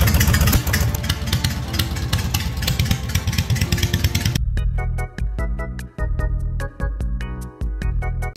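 A lawnmower engine fitted with snowmobile skis runs rough on only one cylinder, a loud, close, uneven rumble that turns into a choppy, sputtering idle partway through.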